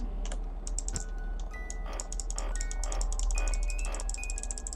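Rapid computer keyboard typing and mouse clicking during a game of FNAF 2, a dense run of sharp close clicks through the whole stretch, with faint electronic tones and a steady low hum behind.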